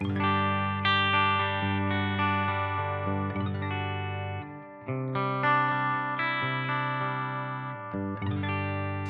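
A clean electric guitar on the bridge pickup, played through TONEX tone models, rings out sustained chords with bright, glassy harmonics and a short pause midway, with no talking.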